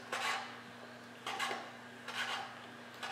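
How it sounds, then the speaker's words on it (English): A knife slices mushrooms into thin strips on a cutting board, making three short bursts of crisp scraping and chopping close by, separated by brief pauses, with a steady low hum underneath. "Just cut them in thin slices"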